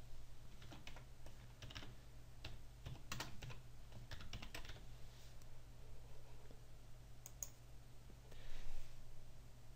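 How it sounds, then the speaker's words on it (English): Steady typing on a computer keyboard entering a volume name while setting up an encrypted VeraCrypt volume, with rapid clustered key clicks in bursts, close and moderately quiet over a constant low electrical hum, no talking. "I will name this volume Scott's Volume and click Save"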